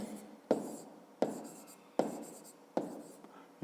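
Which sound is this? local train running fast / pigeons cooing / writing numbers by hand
writing numbers by hand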